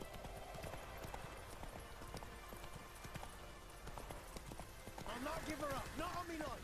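Horse hooves clip-clopping in The Witcher 3 video game, a steady run of hoof beats through most of the stretch, with someone talking over them and a brighter tonal swell near the end.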